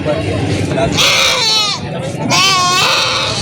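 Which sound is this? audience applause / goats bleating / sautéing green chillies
goats bleating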